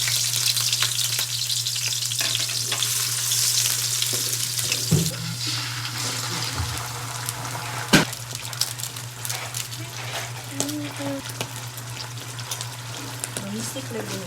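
Pancit bihon rice noodles frying in a pan, a continuous close sizzling hiss with occasional clatters and scrapes, faint talking underneath.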